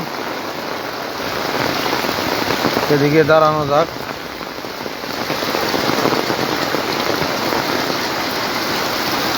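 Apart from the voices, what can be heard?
heavy rain falling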